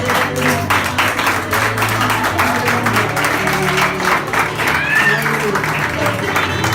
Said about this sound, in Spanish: Den un aplauso fuerte.